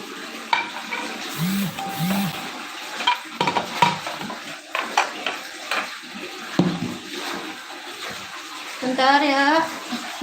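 Batter for a sticky rice cheese sponge cake stirred by hand in a bowl, with close scraping and clinking of the utensil in uneven strokes, while someone talks over it.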